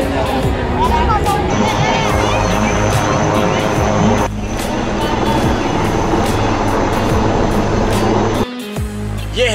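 A powered hang glider with a 4-stroke 55 hp engine flies over an air show, its loud droning engine sustained above a murmuring crowd, briefly dipping near the end.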